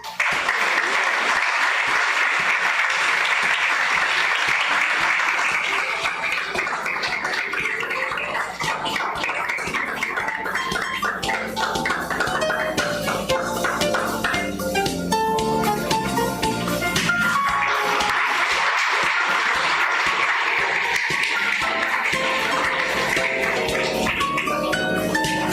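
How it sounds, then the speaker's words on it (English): Sustained, loud round of audience applause at a long-service award ceremony, dense clapping running unbroken for the whole stretch while music plays beneath it. "Warm, lusty round of applause again for Uncle Paul."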